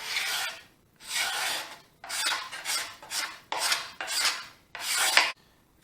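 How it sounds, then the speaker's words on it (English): A sharp hand scraper shaves wood while building a lazy Susan, giving seven short rasping strokes in an uneven rhythm, close and clear, with brief silences between them. "Now I hit it with a scraper and I can take it down right where I want it to be."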